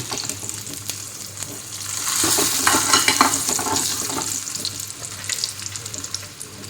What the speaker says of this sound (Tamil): உளுந்து போட்டு பொரிக்கிறோம்.